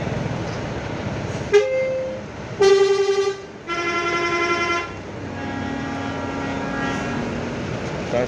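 Bus and vehicle horns blare in turn at the Purabaya bus terminal exit in Surabaya during a long morning queue, several loud tonal honks of different lengths over a low idling rumble.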